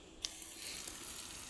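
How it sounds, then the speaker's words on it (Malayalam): Tomatoes and slit green chillies hit hot oil and sauté for a jackfruit masala curry, giving a steady, soft sizzle that starts with a brief crackle and then holds an even hiss. "നമുക്കതിലോട്ട് തക്കാളിയും ഒരു 3 പച്ചമുളകും കൂടി കീറിയിട്ട് ഇട്ട് കൊടുത്ത് നല്ലോണം മൂപ്പിക്കാം"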